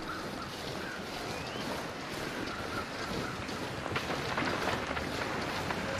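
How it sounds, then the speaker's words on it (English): Steady wind in the game The Long Dark whooshes and rushes continuously, moderately quiet, with faint gusts rising toward the end and no talking. "Pretty windy, isn't it?"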